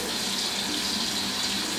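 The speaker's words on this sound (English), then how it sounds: "Let's put some water on my face." Tap water runs steadily into a bathroom sink, a continuous close splashing hiss with no talk, as water is scooped up for a face wash during a skincare routine.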